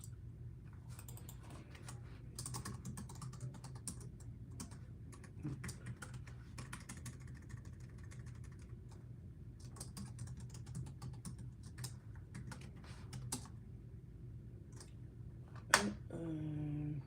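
Steady quiet typing on a computer keyboard while entering a password, continuous soft key clicks throughout with a sharper knock near the end.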